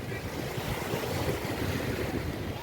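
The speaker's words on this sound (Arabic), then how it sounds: "الموج عالي قوي مره واحده وكان شويه هيغرقنا واحنا قاعدين" High, strong sea waves break and surge steadily at a beach, loud and continuous with heavy wind rush over the shore.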